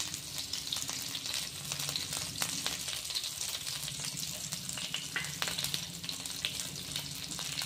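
Green chilli pieces and garlic fry in hot oil with a continuous close sizzle, while a few soft stirring clicks sound over it and no one speaks.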